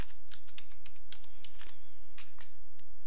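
A password is typed on a computer keyboard in a rapid, close, steady run of key clicks under a constant low hum, with no talk.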